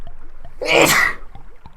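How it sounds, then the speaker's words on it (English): A single sharp, loud sneeze bursts out close up, with faint rhythmic clicking and ticking in the background before and after. "I gotta sneeze."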